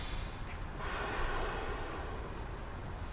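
A person draws a deep breath in through the nose during a stretching exercise, a close airy inhale that swells and then fades into a soft steady breath.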